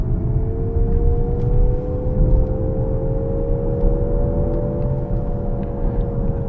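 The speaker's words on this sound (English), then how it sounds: "That whirring, whistling sound you're hearing is their digital engine noise," A Nissan Ariya electric SUV in sport mode plays its synthetic digital engine sound, a steady whirring whistle that rises slightly in pitch over road and cabin rumble as the car accelerates.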